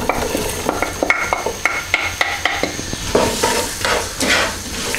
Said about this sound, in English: So we're going to be frying it for about 2 minutes.